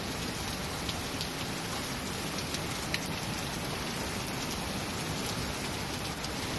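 Steady rain falls during a thunderstorm, a dense, even hiss of drops on surfaces filling the whole stretch at a constant level, with no thunder standing out and no voices.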